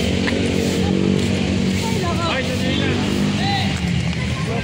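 Motorcycle engines idling and revving along the side of a busy street, a loud continuous rumble mixed with traffic noise while people talk over it.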